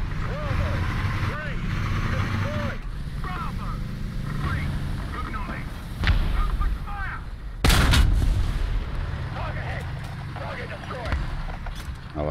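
Artillery fire in the tank game War Thunder, with heavy booming blasts over a constant engine rumble, one especially loud impact standing out, while a player talks throughout.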